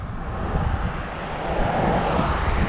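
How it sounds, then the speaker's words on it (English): A race car engine runs rough on a damp road, producing a continuous loud, broadband roar that holds steady with slight swells and no clear talk over it. "Yeah, my car's not sounding good."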